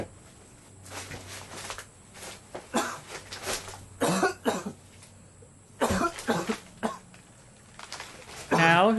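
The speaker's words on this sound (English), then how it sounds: "Now who's got a cough?" Several dry, harsh coughs and some throat clearing in a quiet room, close and fairly loud, with short gaps and faint shuffling between them.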